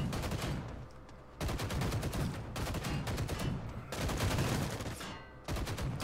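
Gunfire from the video game Storm of Vengeance: dense, continuous bursts of rapid shots and fusillades filling the whole stretch, loud and up close, with brief dips between volleys.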